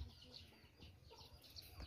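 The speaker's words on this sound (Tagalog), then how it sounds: "pumasok na mga manok dito" Chickens on a backyard vegetable plot in the Philippines cluck in short, scattered calls over low outdoor rumble, fairly faint and close.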